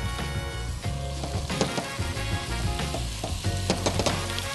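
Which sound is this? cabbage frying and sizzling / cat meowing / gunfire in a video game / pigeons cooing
cabbage frying and sizzling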